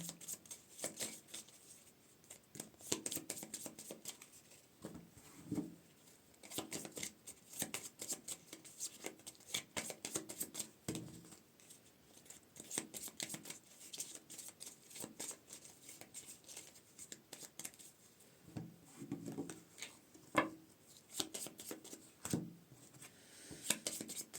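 Tarot cards shuffled by hand at close range, a long run of soft, quick riffling and slapping cards in irregular bursts, quiet and steady throughout with no talk.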